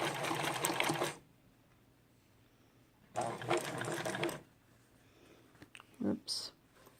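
A Dressmaker SL-2010 sewing machine stitches at maximum width with the shortest stitch length, in two close, steady bursts of whirring separated by a quiet pause, followed by a few small clicks and rattles.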